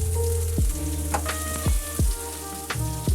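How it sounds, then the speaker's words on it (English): Filet mignon sizzles steadily in a hot pan, with several sharp thumps and clanks from utensils over the crackling fry. "splashing it at the pan. Yep, she's sizzling."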